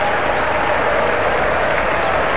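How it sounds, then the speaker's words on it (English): A dense, steady wave of applause and crowd noise fills a football stadium as a substituted Argentina player leaves the pitch during a 2002 World Cup qualifier against Uruguay, loud and continuous throughout. "he gets a great round of applause from this crowd"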